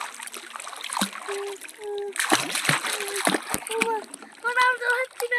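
Splashing in dirty water by a swimmer, with uneven bursts of splatter and sloshing close by, while voices call out and chatter over it throughout.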